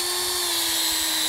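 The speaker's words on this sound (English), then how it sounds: "I'm just going to put the drill up to the tree." A power drill whines steadily at close range, boring into a tree trunk to tap sap, a constant high-pitched motor tone with a dense buzz, running without pause.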